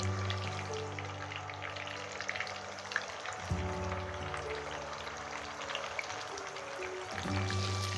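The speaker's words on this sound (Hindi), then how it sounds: "अब इसमें हम मछली को एक एक डाल करके फ्राई करेंगे" Fish pieces frying in hot oil for a fish curry, a quiet continuous crackling sizzle with faint spatters, heard at low level under a steady background hum.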